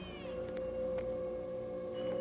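A cat gives a meow against a steady tonal musical background, with a faint cry near the start and another short one near the end.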